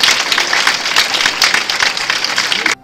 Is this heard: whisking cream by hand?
no